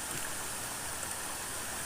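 A creek swollen by two days and nights of heavy storm rain rushes at a weir in Thailand's Isan region, a dense, continuous roar of water close by with no pauses.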